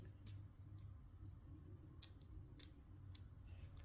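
Scissors snipping wig lace just above the drawstrings, a handful of crisp, close cuts spaced over a steady low background hum.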